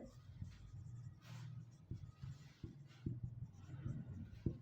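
Chalk or marker tapping and scraping on a board while an equation is written out, a string of short knocks and strokes at moderate distance over a low room hum.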